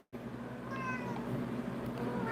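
A cat meows a few times, close and fairly clear, over steady low background hum with no talking.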